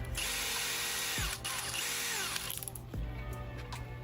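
A power driver sends screws into a 3D-printed grenade launcher body, whining at a steady pitch with short pauses and speed changes as each screw seats.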